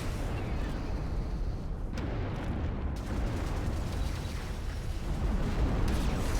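Artillery fire from the sci-fi tower defense game Siege of Centauri, a dense, continuous roar of overlapping booms and blasts that stays loud throughout and swells slightly near the end.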